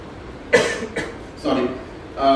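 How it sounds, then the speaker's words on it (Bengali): Several short, harsh coughs come in separate bursts, close to the listener, with brief quiet gaps between them. "আসলে সরি বলে লাভ নেই, আমার কাশি হয়েছে কয়েকদিন ধরে"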